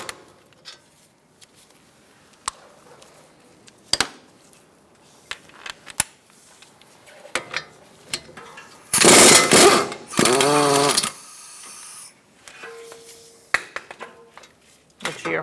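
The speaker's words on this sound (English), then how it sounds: "Using an 18mm socket, we're going to take out these bolts that are holding the bracket on." Scattered metallic clinks and taps of an 18mm socket on Ford Focus front brake caliper bracket bolts, with two louder bursts of rapid mechanical ratcheting or power-tool whirring midway and faint clatter between.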